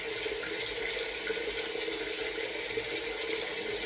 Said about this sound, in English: we're going to rinse it off with warm water